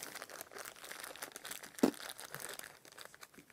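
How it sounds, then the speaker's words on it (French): Adhesive tape rips once, a short crinkly tear from the packaging as Nerf Rival foam balls are pulled free, standing out from a quiet background hiss. "Procédé d'extraction toujours un petit peu délicat à cause de ce ruban adhésif qui décidément est adhésif"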